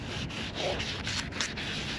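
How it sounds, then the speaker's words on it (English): Sandpaper rubs steadily across varnished wood on a boat, roughening the surface between coats; a continuous near scratching with a few brief pauses and strokes, no voices. "you just roughen the surface of the varnish a little bit to give the next one something to grip"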